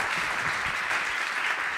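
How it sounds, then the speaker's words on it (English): An audience at an art talk applauds two guest speakers, a steady wash of clapping heard from within the room. "So please give an applause to Arif and Trevor."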